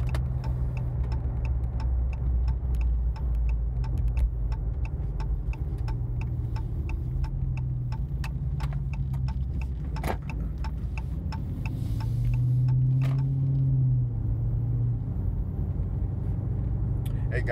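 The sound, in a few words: car driving, interior road noise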